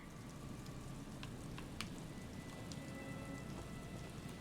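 Steady rain patters in Disco Elysium, a soft, even hiss of drops with a few sharper splashes, faint and continuous.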